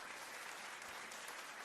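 A crowd claps in a soft, steady patter of applause, faint and distant, with no voices over it.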